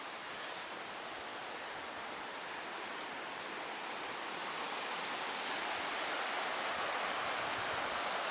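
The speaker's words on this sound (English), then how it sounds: "The Rio Caldera in full flight. Quite a steady stream." The Rio Caldera in full flow sends up a steady, broadband rushing roar of water that stays constant and close, with no voices.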